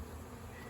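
A bee buzzes close by with a steady, faint hum that stays even and unbroken for the whole short moment, with no voices.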